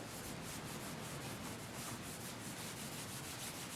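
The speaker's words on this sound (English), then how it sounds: "So I'm going to give it a quick wipe down with some naphtha," A cloth soaked in naphtha wiping down a machine surface, a continuous close scrubbing rub with a faint back-and-forth pulse, steady and unbroken with no voices.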